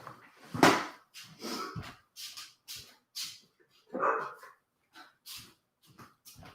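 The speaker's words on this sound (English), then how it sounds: "If you hear a dog barking, that's my daughter's dog, Lily." A pet dog named Lily barks in a string of short, sharp yaps and whimpering yips, spaced irregularly and fairly close, in an otherwise quiet indoor room.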